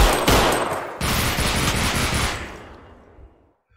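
Sustained automatic gunfire rattles in Half-Life: Alyx: a sharp opening shot, then a dense rapid burst that keeps pounding before tapering off into silence.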